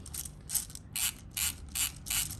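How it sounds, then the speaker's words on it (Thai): An HK416A5 airsoft electric rifle's high-capacity magazine is wound by its thumb wheel, producing five or six distinct ratcheting clicks in a steady rhythm, close up and clear, with no voices. "จะต้องใช้ผีเสื้อในการปั่น"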